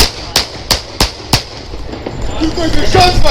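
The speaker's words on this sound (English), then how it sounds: "Shots fired! Shots fired!" A rapid volley of five sharp, loud gunshots fired in a police confrontation over a knife, evenly spaced and close, followed by rising commotion and noise with voices.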